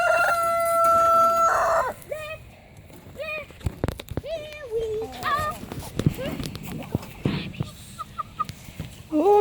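A rooster called Mr. Cuddles crows and calls among pretty old hens in a backyard garden pen, sharp bursts over scattered clucks and rustling, with a person's voice nearby.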